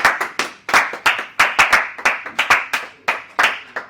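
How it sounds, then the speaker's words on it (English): A small group of people clap in a sparse, uneven round, with distinct individual hand claps sounding close and clear, each decaying quickly in a room. "Let's give them a round of applause."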